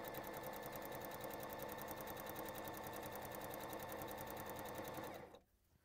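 A Bernette mechanical sewing machine runs steadily as it stitches a one-step buttonhole, a fast even needle rhythm carrying on close and loud for about five seconds before stopping abruptly.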